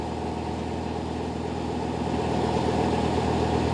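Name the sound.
old engine of a canal fuel delivery boat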